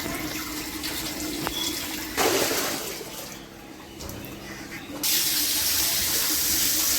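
Tap water running over a plain, unglazed clay water pot while it is rinsed, a close splashing rush that swells, dips to a quieter trickle, then returns louder and steady.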